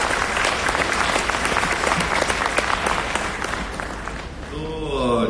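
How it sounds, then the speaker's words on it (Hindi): An audience breaks into steady, dense applause that holds for several seconds before thinning out toward the end. "तालियां हो जाए इस बात पे"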